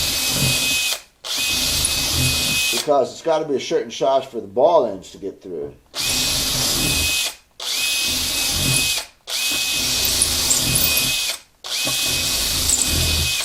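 A power drill reaming the bridge holes of a Martin HD-28 acoustic guitar whirs in repeated bursts of several seconds each, loud and close, with someone talking briefly between the runs.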